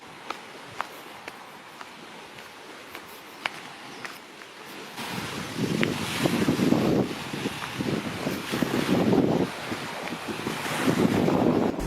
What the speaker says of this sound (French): il y a beaucoup de vagues